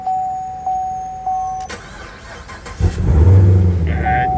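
A warning chime beeps a few times, then a 2011 Chevrolet Camaro SS 6.2L V8 cranks and roars to life, settling into a loud, deep idle close by.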